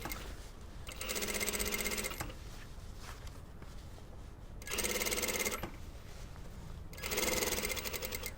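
A sewing machine runs in three separate bursts of rapid, even stitching while gathering a blouse's puff sleeve, quiet and close, with pauses in between.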